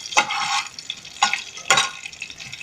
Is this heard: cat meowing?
no